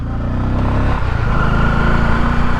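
A Bajaj Pulsar 250 engine pulling hard in first gear, a loud close throaty rumble that shifts pitch as it builds speed, with wind roar around it.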